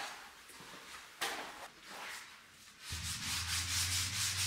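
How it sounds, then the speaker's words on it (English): Sanding of wooden crib parts for a midcentury Danish modern style crib, a steady abrasive rubbing hiss that grows louder and more continuous toward the end, with a low machine hum joining in. "after days and days and days of sanding, it was time for finish."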